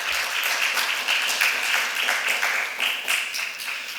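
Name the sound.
applause of encouragement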